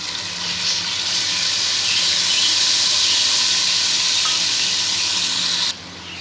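Chopped tomatoes sizzle in a hot pan over ginger-garlic paste, a loud, steady hiss of frying that runs for several seconds and drops off abruptly near the end, with no voices.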